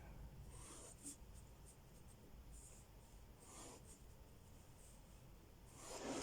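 Pencil drawing straight vertical lines on paper, soft continuous scratchy strokes repeating several times, close and quiet, with no talking.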